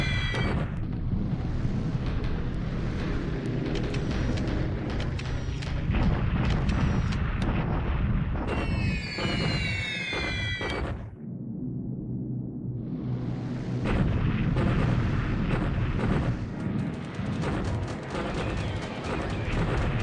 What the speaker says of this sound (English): we're seeing that they're strafing and bombing